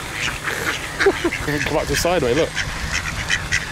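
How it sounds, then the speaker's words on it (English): Tame ducks quack in a busy cluster of nasal calls near the middle, close by, while someone talks over and around them. "These are tame ducks."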